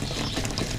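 Water poured from a 2.5-gallon container into a farm sprayer tank for sweet corn spraying, a steady close rushing splash lasting the whole short moment.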